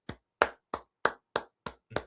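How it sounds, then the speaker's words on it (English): Seven separate, crisp hand claps in a slow, fairly steady rhythm, close by and moderately quiet, with silence between each clap. "We'll always give that one a round of applause on this channel"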